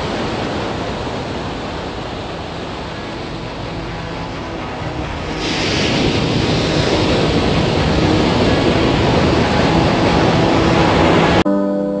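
Steady broadband roar of sea waves breaking on a shore, continuous and loud, swelling stronger partway through and holding there to the end.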